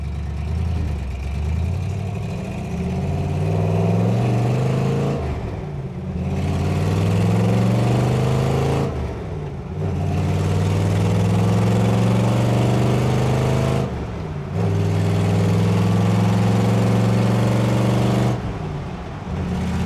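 A carbureted 1966 Ford Mustang engine revs loudly and close up in several rising surges, each dropping back to a smooth, steady idle between pulls, with no voices.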